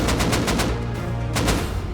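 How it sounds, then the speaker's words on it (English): Rapid gunfire from the survival video game Rust crackles in quick bursts, a run of sharp evenly spaced shots, a pause, then more shots close by. "I hear gunshots"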